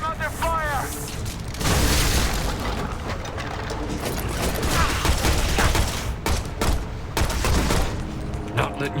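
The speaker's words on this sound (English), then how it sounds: "I'm under fire!" Gunfire in the video game Shadow Complex: dense, continuous bursts of shots and booms over busy game music and effects, with a voice talking over the din.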